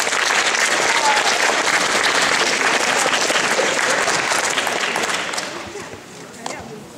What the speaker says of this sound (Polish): Bardzo proszę o brawa.